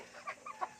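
A chicken clucks softly three times in quick succession, faint and a short way off, with a quiet farmyard background.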